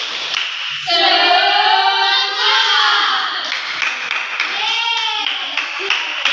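Children in a classroom guidance session perform a group clapping chant, shouting in unison with patterned claps and taps mixed under their voices, close and lively.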